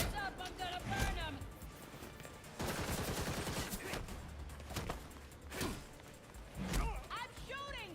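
Gunfire in the Gotham Knights game, with several bursts of rapid shots and sharp cracks spread across the stretch, a longer volley in the middle, whooshing effects, and voices talking in between.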